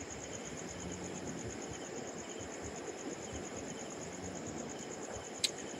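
Crickets chirp beside a river at night, a faint, steady high-pitched pulsing over a soft background rush of flowing water, with one brief sharp click near the end.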